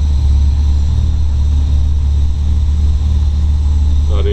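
A 1966 Austin Healey 3000 MKIII six-cylinder engine idling with a steady, deep, throaty rumble, close and loud, holding an even drone throughout with no speech.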